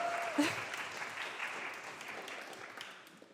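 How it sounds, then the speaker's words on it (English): An audience at a panel event with advertising and marketing experts applauds the panelists, a steady wash of many hands clapping at moderate volume that gradually thins and fades. "could we have another round of applause for them?"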